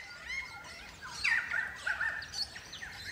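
Crimson rosella parrots calling in the wild during breeding season, with a few clear, high whistled and chattering notes at moderate distance over a quiet background.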